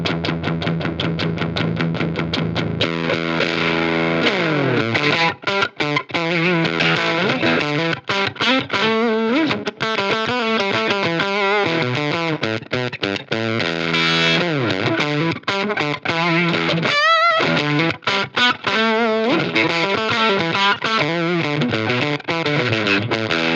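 Loud, fuzzy, heavily distorted electric guitar played through a 5E3 Tweed Deluxe amp pushed to the edge of breaking up, with continuous chords and riffs for over twenty seconds and no talking.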